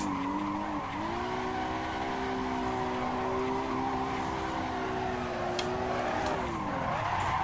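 Simulated tire squeal from a drifting car in the racing game Assetto Corsa: a sustained, loud skidding screech with engine drone that holds steady, then dips and fades near the end, heard alone without talk.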